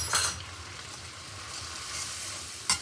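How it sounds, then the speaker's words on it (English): Flour being stirred into melted butter in a cooking pan gives a soft, steady sizzle with light scraping from the stirring, ending in one sharp clink near the end. No one speaks. "Now we'll add the flour and just mix this in the butter"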